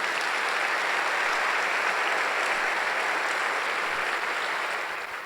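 Sustained congregation applause at a Sunday church service, a dense steady wash of many hands clapping together for several seconds before easing slightly at the end, with no voices over it.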